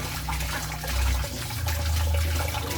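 Water runs and splashes steadily as boiled pork is rinsed clean in a rural Thai kitchen while making naem, a fermented pork sausage. A low, continuous gush lasts the whole stretch with no talk.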